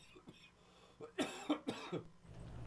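A man who is still under the weather coughs several times in quick, sharp bursts, close and fairly quiet, with a bit of throat noise before and after.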